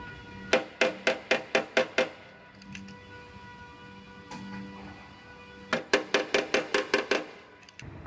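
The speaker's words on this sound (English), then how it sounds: "so I could get inside this taillight pocket and hammer this area out" Short-throw hammer beating out sheet metal inside a car's taillight pocket, struck in two rapid bursts of about seven to eight sharp metallic blows each, close and loud, separated by a quieter pause.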